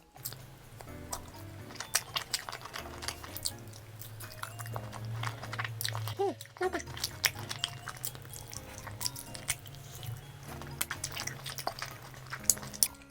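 Close, wet chewing and biting on a cheese chicken skewer brushed with sauce, steady mouth sounds with soft crunches and smacks throughout, a brief pause midway, no talking.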